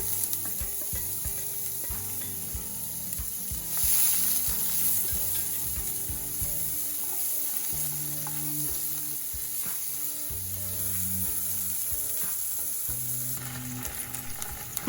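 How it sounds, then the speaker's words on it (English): Onions frying with curry leaves in a pan for South Indian brinjal curry: a constant bright sizzle close by, with soft spatula stirring and a few brief knocks against the pan throughout. "Fry them well. Now let's toss in our onions."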